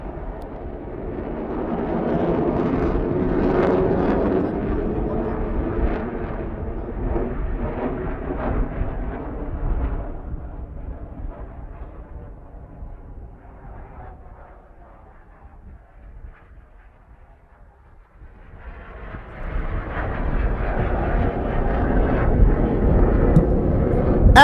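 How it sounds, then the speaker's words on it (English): MiG-29 fighter jets of the navy's Black Panthers roar past at a beach air show in Visakhapatnam, a loud, sustained rumbling jet roar that fades to a lull mid-pass and then swells again as another aircraft approaches. "we have just witnessed the MiGs demonstrate raw thrust and acceleration"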